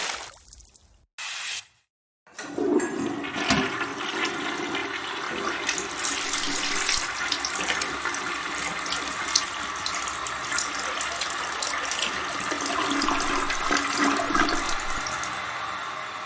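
A toilet flushes with a brief rush, then after a short pause a tap runs water steadily into a sink, a continuous close splashing hiss lasting to the end.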